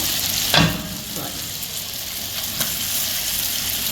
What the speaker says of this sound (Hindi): जिंजर गार्लिक का पेस्ट डालते हैं, टमाटोज ऐड कर देते हैं इसमें।